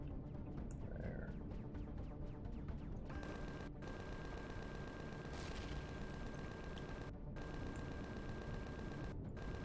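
Gunfire in the video game Empyrion Galactic Survival, dense rapid automatic bursts pounding continuously at high volume, with a steady tone underneath and a few brief gaps between volleys.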